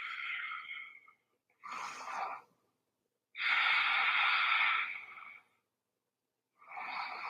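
Slow, audible breaths in a yoga child's pose come as several soft, airy inhales and exhales, each lasting a second or two, separated by short silences and close to the microphone.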